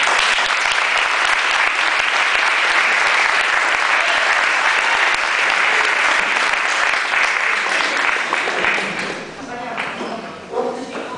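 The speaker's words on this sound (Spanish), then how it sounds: "Fuerte aplauso, gracias." Loud, dense audience applause at a gala, filling the room with rapid clapping for about nine seconds before thinning out, with a few scattered claps and murmuring voices as it dies down.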